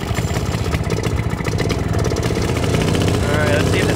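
A 1920s cycle car engine idles close by, a steady, loud, uneven mechanical chug with rapid pulsing throughout, no talking over it.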